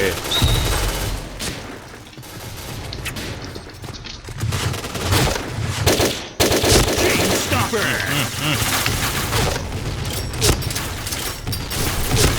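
Dense gunfire in the video game Point Blank, with rapid bursts and rattling automatic fire layered with booms and explosions. The shooting stays loud and nearly continuous, with faint voices mixed in.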